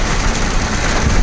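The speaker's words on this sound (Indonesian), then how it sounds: "Oke, ini hujan." Steady rain falls as a loud, continuous broadband hiss with a low rumble underneath, close and unbroken.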